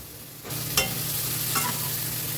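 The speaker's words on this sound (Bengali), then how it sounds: "এঁচোড়টাকে আমি ভেজেই করব" Young jackfruit pieces fry in a pan with a steady close sizzle that jumps in sharply, broken by a couple of brief scraping stirs, no voices.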